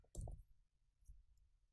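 A computer mouse gives a quick pair of crisp clicks, then a softer single click a moment later, all faint against a quiet background with no talk.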